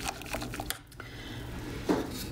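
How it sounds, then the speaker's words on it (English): Wooden spoon stirring a vanilla custard mixture in a pot for homemade ice cream, giving soft scraping and light knocking against the pot in a steady, close rhythm, with no talk. "I'm just stirring it to make sure that nothing sticks"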